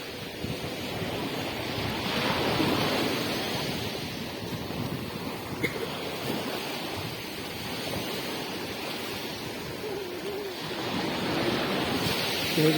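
Sea waves wash steadily onto the shore at Penth beach, a broad continuous surf roar mixed with gusting wind against the microphone, no voices heard.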